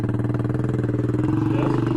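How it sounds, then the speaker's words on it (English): A KTM 690 Enduro R single-cylinder motorcycle engine running close by on a track, with a steady low rapid thumping and a slight rise in revs near the end. "Strike the throttle when you hit the starter button."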